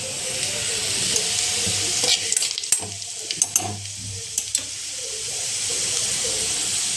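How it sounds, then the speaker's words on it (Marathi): Spring onion greens hitting hot oil with browned garlic, a steady bright sizzle and hiss across the whole stretch, with a few sharp crackles and spatters in the middle, close and fairly loud, no talk. "लाल लसण झाला की मग त्याच्यामध्ये आपण टाकणार आहे कांद्याची पात."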